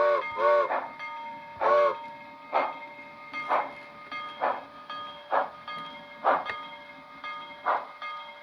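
A couple of short quick-whistle toots from an HO model John Bull locomotive's Soundtraxx Econami sound decoder give way to a steady rhythm of chuffing steam exhaust beats, loud and near, repeating about once per second.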